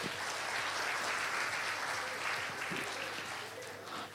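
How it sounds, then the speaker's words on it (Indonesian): An audience claps together at a gathering, a steady wash of applause sustained for about four seconds at moderate distance, easing slightly toward the end. "Tepuk tangan sekali lagi untuk Anda semuanya"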